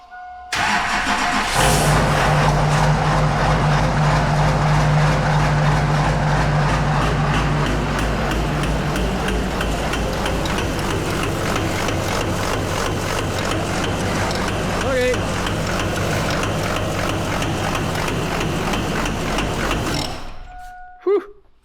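An LB7 Duramax diesel with at least one injector stuck open cranks and fires, then runs at a steady, loud, rough idle close by. Brief talk sits over the engine at the start.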